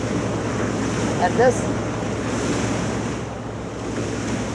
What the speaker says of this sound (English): I wanted you to see this wave at 11 miles an hour